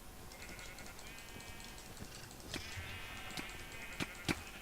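Sheep in the video game Minecraft bleat in short, thin, wavering calls over a faint background hiss, with a few sharp clicks like keyboard presses near the end.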